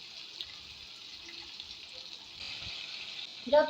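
Onions, tomato and marinated fish frying in a pan, a steady soft sizzle running throughout at moderate level, with a brief louder clatter near the end.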